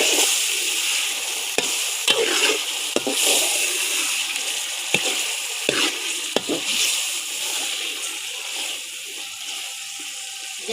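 Chicken in spiced masala sizzles and fries in a pan, with a continuous hiss broken by sharp clinks and scrapes of stirring, heard close and with no talking over it.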